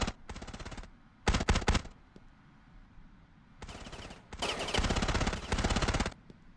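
Beretta ARX160 rifle fire in the Ravenfield video game: rapid automatic bursts of close, loud shots, several separate volleys with brief pauses and a faint lone crack between them.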